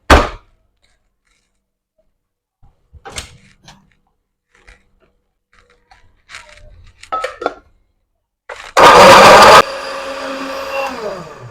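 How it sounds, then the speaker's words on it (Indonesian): A blender roars into a loud, steady grind of a spice paste with added water after some scattered clatter and handling noises, then settles into a lower continuous whir. "ini bumbunya udah Bunda cuci, kita blender, tambahin air secukupnya"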